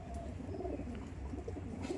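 A pair of Madrasi Doyaj pigeons coo softly and briefly in a loft, their low throaty calls faint against a steady background hum.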